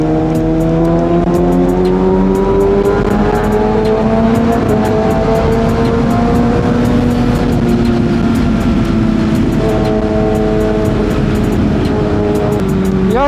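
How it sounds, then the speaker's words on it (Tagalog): A loud Kawasaki ZX6R motorcycle engine roars steadily along an expressway, with rising and falling engine tones as it revs and shifts, plus constant wind rumble throughout; no talk. "Napakaingay ng motor ko"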